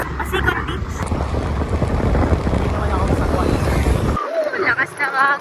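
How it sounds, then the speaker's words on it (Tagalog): Strong wind buffets the microphone during a rainy motorbike ride on Siargao, a loud broadband roar lasting about four seconds before it drops away abruptly and a voice speaks over quieter background. "Lakas ng hangin, guys"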